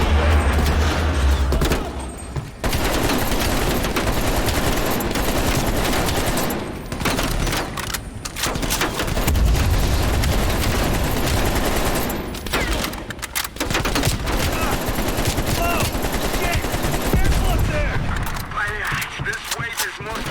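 Sustained AK rifle fire fills a Call of Duty Black Ops Cold War fight, with dense, loud automatic bursts and explosions running almost without pause, and voices occasionally heard beneath the shooting.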